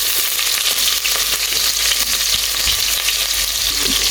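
Onions sizzle and fry in hot oil in a pot, a loud, steady crackling hiss close up, with scattered pops and occasional scraping stirs throughout.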